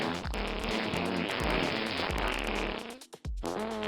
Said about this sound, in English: Eventually I farted too much and the screen filled up with fart